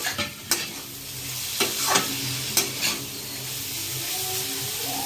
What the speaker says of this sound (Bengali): এবার আমি এর মধ্যে বেগুনগুলোকে ছেড়ে দেবো।